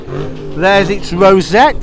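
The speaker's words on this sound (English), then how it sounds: "Somebody just intent on revving their way to oblivion." A car engine revs repeatedly at the Ford Fair 2023 car show, each rev rising and falling in pitch in a few close, loud bursts while someone talks over it.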